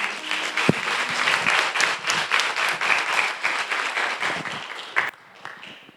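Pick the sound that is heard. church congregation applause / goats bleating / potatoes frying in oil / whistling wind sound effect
church congregation applause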